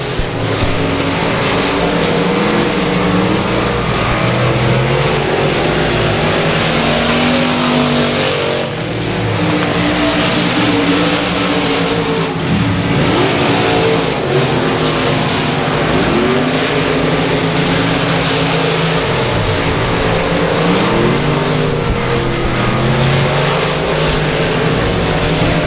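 Race cars speed around South Texas Speedway, a continuous loud roar of engines with rising and falling pitch as cars pass and rev, without commentary.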